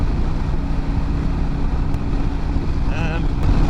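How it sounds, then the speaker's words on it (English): Steady broadband wind rush buffets the rider of a Kawasaki Vulcan 900 motorcycle sweeping through turns on a back road, mixed with the engine's low drone, continuous and loud throughout, with a brief chirp near the end. "I don't know if you guys can hear all that wind"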